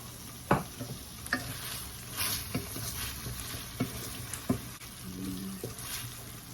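Butter sizzles in a pan with sugar and sauce for Filipino beef steak, a soft steady frying hiss broken by scattered taps and stirring scrapes of a utensil, fairly quiet and close.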